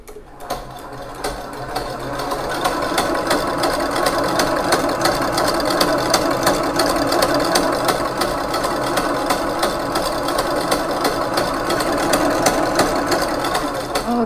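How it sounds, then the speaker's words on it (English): An electric hand mixer whisks meringue for an Oreo chiffon cake, running as a steady, close, continuous whir with a rattling buzz through the whole stretch, no talking over it. "I'm going to whisk it a bit more before I use it for folding into the yolk batter"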